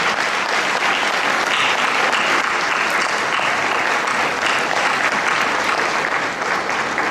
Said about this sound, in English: I would like you to give a huge round of applause to everybody who's back there